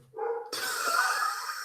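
A dog kept indoors lets out a single drawn-out bark that rises into a loud, harsh, sustained yelp close by, with no talking.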